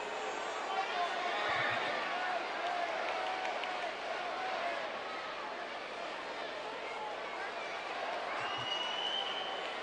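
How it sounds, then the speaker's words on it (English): Wrestling fans cheering in an arena ahead of a wrestler's entrance, a broad, continuous crowd roar with scattered whistles and claps, holding steady and fairly distant for the whole stretch. "Fans cheer in advance in anticipation of the American Dream's arrival."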